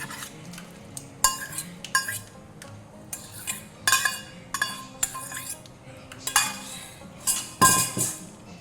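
Fried okra goes into a pan of spiced yogurt curry, with repeated clinks and scrapes of a utensil against the metal pan in irregular bursts, fairly close and moderately loud, no talking.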